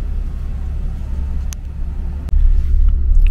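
A car rolling around to a fast-food drive-thru pickup window, heard from inside as a steady loud low rumble of engine and road noise with a brief dropout and a few light clicks.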